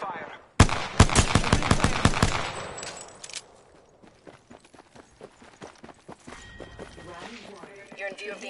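Rapid automatic gunfire rattles out in a dense burst in the video game Apex Legends, then thins to scattered, fainter shots and footsteps while a game voice speaks.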